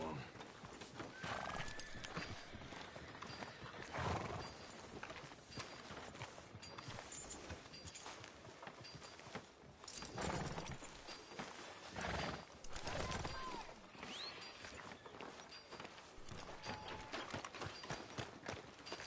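Horse hooves clip-clop with an occasional whinny in the video game Red Dead Redemption 2, steady walking steps at moderate distance while voices talk over them throughout.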